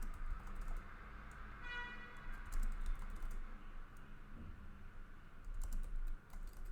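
Close, steady clatter of keys on a computer keyboard, entering terminal commands during a Linux software install, continuing alone in quiet room tone.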